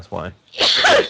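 A single sharp sneeze bursts out among players at a live Pathfinder tabletop session, loud and close, following a short stretch of talk.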